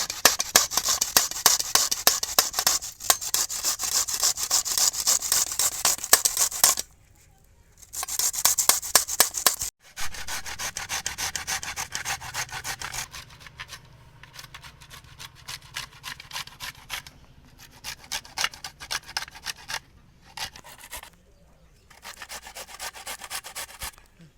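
Cauliflower is rubbed against a small hand grater in fast, rhythmic scraping strokes, close and continuous, with a few brief pauses between runs.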